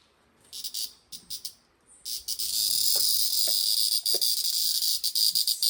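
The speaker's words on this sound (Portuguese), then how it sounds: "É tão gostoso você no final da tarde, no início da manhã, quando o sol está esquentando, você escutar o som das cigarras." Cicadas, caught in a house in Brazil, buzz in a loud sustained high-pitched drone after a few short stuttering bursts, steady and close with no voices.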